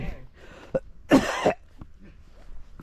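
A short cough, then a louder harsh cough with throat clearing, close to the microphone amid quiet background.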